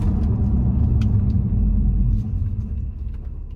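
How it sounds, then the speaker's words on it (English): A 2014 Audi RSQ3 with the 2.5-litre TFSI quattro engine slows under braking from about 60 mph, its deep road rumble and engine drone easing as it decelerates. "I'll just test those brakes out"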